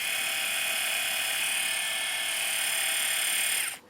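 A Philips electric shaver runs with a steady, fairly quiet motor buzz and fine high whine for nearly four seconds, then cuts off abruptly near the end. No voices.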